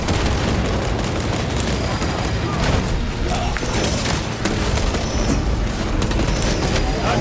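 A frag grenade explosion in Space Marine 2 lands within a loud, continuous wash of battle noise, with heavy booms and gunfire layered throughout.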